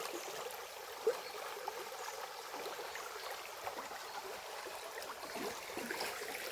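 Water from a stream flowing through a quiet forest spot, a faint, steady rushing wash with no voices.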